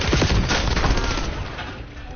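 A sticky grenade goes off in Call of Duty amid a dense, continuous clatter of gunfire, loud and close for the whole stretch with no pause.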